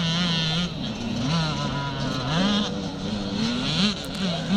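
Race leader's motorcycle on a classic scramble track in Northern Ireland, engine droning and revving steadily at mid distance, its pitch rising and falling through gear changes over the whole stretch.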